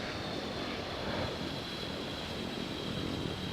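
Propeller airplane taking off in the Infinite Flight flight simulator game, a steady loud engine drone with a broad roar that holds evenly throughout, no voices present.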